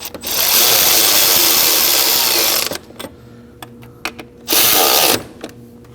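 Ratchet snugging four bolts on a 2011–2016 Kia Optima during an oil pressure switch replacement: a sustained, loud mechanical whirring for about two seconds, then a few short clicks and a second brief burst.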